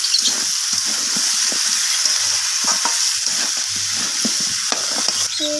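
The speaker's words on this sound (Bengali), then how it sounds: "তো আলু কুমড়ো দুটোকেই আমি মাছের মাথার সাথে নাড়াচাড়া করে ভেজে নিচ্ছি।" Potatoes and pumpkin stir-fried with a katla fish head in hot oil, a loud steady frying sizzle with repeated spatula scrapes and knocks of stirring, close and without talk.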